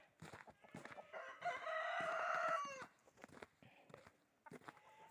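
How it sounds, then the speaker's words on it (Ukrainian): A rooster crows once at moderate distance, surrounded by softer clucking and hen noises in a quiet yard. "Кури випустила."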